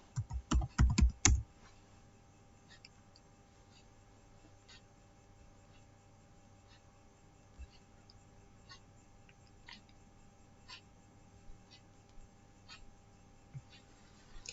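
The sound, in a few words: typing a ping command on a computer keyboard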